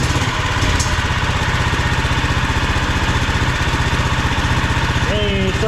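A 459cc engine swapped into an EZGO golf cart idles steadily up close, a loud, even chugging pulse that continues without a break, with a brief voice at the end.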